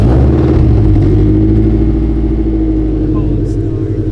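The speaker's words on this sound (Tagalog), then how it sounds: "Cold start." A car engine is cold-started and runs with a loud, steady low rumble that sits close throughout, with no voices over it.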